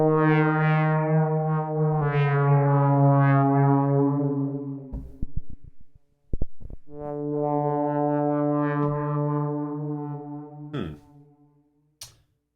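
Modular synthesizer oscillators, two and three, with their pulse width swept by an LFO, drone in sustained harmonic-rich tones, broken by a few short gaps and clicks before resuming, loud and alone.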